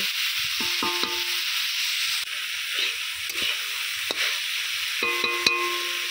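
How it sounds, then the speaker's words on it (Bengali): Banana flower, potato and eggplant fry in a pan with a steady hiss, broken by a few sharp scraping stirs and clinks near the start and again toward the end. "মোচা, আলু, বেগুনটা ভালো করে ভেজে নিয়েছি।"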